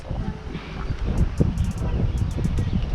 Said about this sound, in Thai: ลมแรงนะครับผมถ้า เสียงลมเข้ากล้องผมขอโทษด้วยนะฮะ